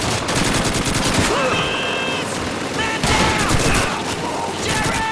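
Dense gunfire crackles through a 1942 El Alamein desert battle in a British game scene, rapid machine-gun bursts and rifle shots loud and continuous, with shouting voices mixed in.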